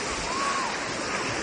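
Churning water from the wave pool at Fontana Leisure Park resort forms a constant loud surf-like rush, with a brief faint whistle-like tone drifting over the steady roar.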